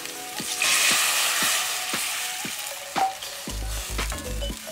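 Corn flour dissolved in water being stirred into a pot of cooked onion, with steady frying sizzle and repeated scraping stir strokes, plus a few low utensil knocks near the end, no talking.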